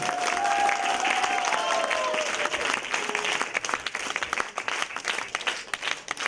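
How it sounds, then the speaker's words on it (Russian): Audience applause for the Udmurt folk ensemble Taivadi from the Starosolinsky House of Culture, Kiyasovsky district, at an Udmurt Grandmothers' Day festival in Moscow. Dense clapping fills the clip with a faint tonal voice or music over it early on, thinning toward the end. "Ваши аплодисменты!"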